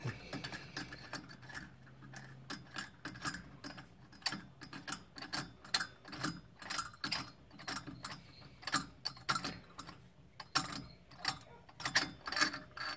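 A long bolt being threaded out of an Odes UTV clutch, giving a steady run of close, dense metallic ratcheting clicks with brief pauses, no talking.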